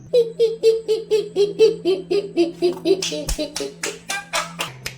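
Sharp, rhythmic hand claps as a story sound effect for a witch, a steady beat of about fifteen claps speeding slightly and growing brighter, over a giggling, sing-song voice and a constant low hum.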